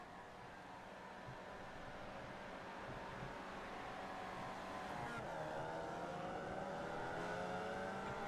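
Race cars lap Oulton Park in a club fun run, a faint, distant engine drone that swells gradually as a car draws closer, its pitch rising slightly toward the end.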